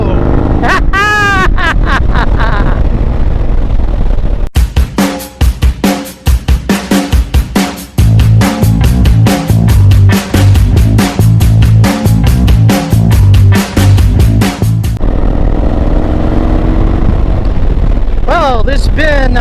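A Harley-Davidson Sportster motorcycle revs and rides, its loud, dense engine roar running steadily through the middle stretch, with a voice talking before and after the ride.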